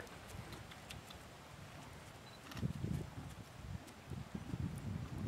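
A four-day-old foal lopes outdoors, and soft, irregular hoofbeat thuds are heard at a moderate distance, growing a little louder toward the end over a low outdoor hiss.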